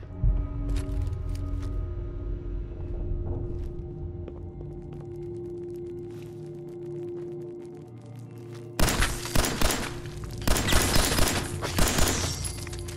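Gunfire in Fallout 4: quieter game ambience with scattered clanks gives way to sudden loud bursts of rapid shots and impacts, crackling and shattering close by in repeated volleys.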